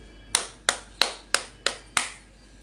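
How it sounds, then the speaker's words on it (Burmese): Six sharp hand claps ring out alone at an even, steady pace, each a crisp close slap with a short decay, all about a third of a second apart. "လက်ခုပ်၆ချက်တီးရမှာ"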